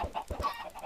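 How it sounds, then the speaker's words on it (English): Chickens in the Minecraft Feed The Beast modpack clucking repeatedly in short, close, moderately loud bursts with no talk over them. "Oh, chicken in the wall."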